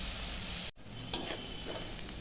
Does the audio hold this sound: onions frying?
yes